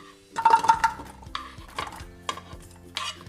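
Medium-sized garlic dropped into a pan for an aloo baingan sabzi, giving a few clattering, scraping stirs against the metal with short bursts of sizzle and clinks, close and fairly loud with quiet gaps between.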